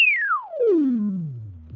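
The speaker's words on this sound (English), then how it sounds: "So we have a simple oscillator, and it's a sine wave, and we can change the frequency" Pure sine wave tone from a simple oscillator in Max for Live, sweeping smoothly downward from high to low pitch over under two seconds, clean and steady with faint harmonics and no voices.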